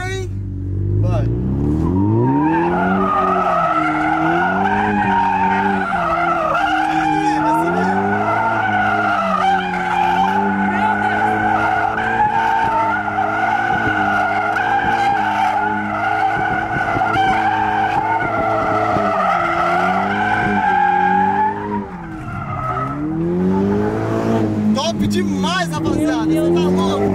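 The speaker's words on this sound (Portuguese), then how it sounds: "Nossa, e dá drift mesmo, real." A car drifting with tires skidding, a long loud squeal that wavers in pitch for about twenty seconds over a straining engine, then revs rising again, with excited voices talking over it.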